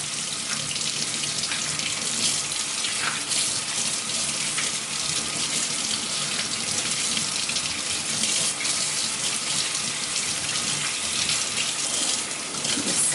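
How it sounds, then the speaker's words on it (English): Steady tap water runs into a sink while green bananas are peeled under the stream, a continuous close splashing rush filling the whole stretch without pause. "It's going to be much easier to get the peel off the banana if you do it under running water."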